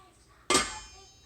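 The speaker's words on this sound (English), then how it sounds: "cover the pans" A single metallic clang as a lid is set onto a pan, ringing briefly before fading out.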